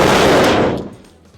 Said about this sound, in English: This is the most basic fall in wrestling.